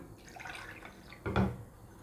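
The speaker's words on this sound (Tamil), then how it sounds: "இன்னும் கொஞ்சம் தண்ணி ஊற்றிக்கலாம்" Water poured into rava batter for kara kuzhi paniyaram, a short splashing pour standing out near the end over quiet kitchen background.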